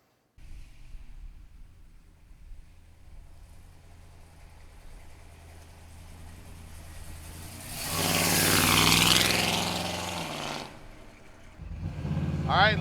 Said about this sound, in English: Sweet sounding exhaust on this baby, 396 under the hood, numbers matching